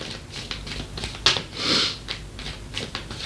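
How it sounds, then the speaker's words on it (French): One quick sniff sounds close up, followed by a longer, breathy intake amid faint rustling and small clicks. "si je renifle, je m'excuse"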